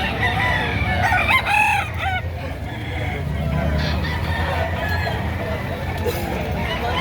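A rooster for sale crows loudly near the start at a chicken market, with clucking fowl and a steady background murmur of voices and farmyard noise.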